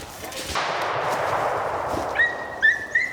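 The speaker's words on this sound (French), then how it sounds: "Premier coup de carabine." A single rifle shot at a hunt cracks out as a sharp, loud broadband burst, its rumble decaying over a couple of seconds, followed by faint high bird-like chirps near the end.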